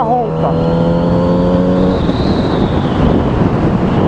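A Kawasaki Z900RS motorcycle engine revs hard above 4,500 rpm in chaotic São Paulo traffic, a loud steady roar with a rising tone early on, heavy wind buffeting throughout, and someone talking over it.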